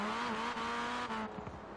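A tuned, maxed-out Hyundai Veloster N in Forza Horizon 4 revs high in a steady, close engine whine that drops off sharply at the end, heard alone and fairly faint.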